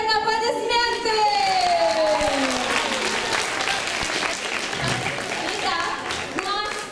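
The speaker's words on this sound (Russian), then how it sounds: "Аплодисменты" A school audience at a Teachers' Day show breaks into applause, a dense patter of clapping that builds and carries on steadily, with a fading sung tone at the start and light crowd noise mixed in.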